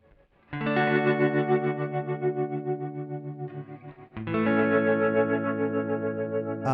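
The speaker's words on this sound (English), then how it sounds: "the tremble algorithm, which is a tremolo reverb" An electric guitar played through a tremolo reverb pedal on a tremble setting: sustained chords pulse in a rapid wavering rhythm with a washy reverb tail, one chord fading before a second chord is struck and rings out.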